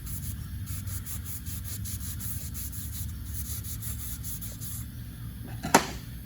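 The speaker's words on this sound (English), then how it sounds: "just by using some Scotch-Brite on here and going around and cleaning up real good" A Scotch-Brite pad scrubs a metal part from a car's failed mass air flow teardown, giving a steady, close rasping rub that continues without pause, ending with a brief sharp knock.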